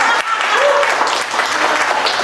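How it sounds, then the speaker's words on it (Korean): An audience applauds to encourage a baby named Chukbok, a short burst of dense clapping that fills the room for about two seconds, with a brief voice heard under it near the start. "박수로 우리 축복이를 격려해 주시면 감사하겠습니다"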